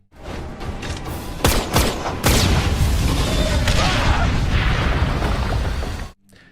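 A loud, rumbling explosion with sharp bangs at the start, followed by sustained roaring debris and crackle that cuts off abruptly.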